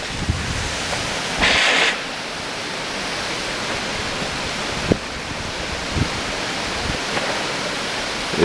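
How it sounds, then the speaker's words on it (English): Small water jets splash into a pool at the National D-Day Memorial, meant to look like bullets hitting water. A steady outdoor rush of spray and wind carries a brief louder burst and a few faint knocks, with no talking. "They've got these little water jets down here, which are, I think, supposed to look like bullets striking the water."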